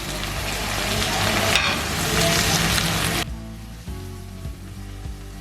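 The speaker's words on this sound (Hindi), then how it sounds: "ये जो मैंने बाकी रखे थे टमाटर, प्याज और सब्ज़ मिर्चें, ये मैं इसके ऊपर मैं डाल दूँगी दोबारा" Daal and bitter gourd fry in a pan with tomatoes, onions and green chilies, giving a loud, steady sizzle that drops abruptly to a quieter crackle partway through, with no talking.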